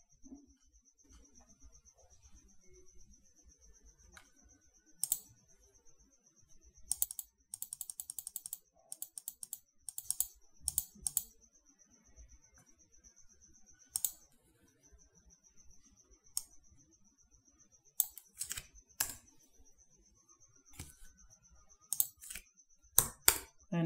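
Typing on a computer keyboard while entering text into an email form, with quiet clusters of quick key clicks and pauses between bursts over a steady faint electronic tone.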